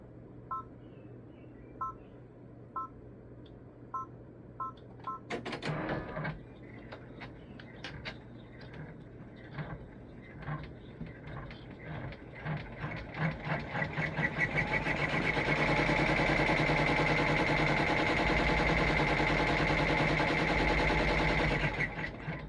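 Embroidery machine stitching scarf details on a felt reindeer ornament: a few beeps, then rapid mechanical stitching clatter that builds to a steady, dense whir before stopping.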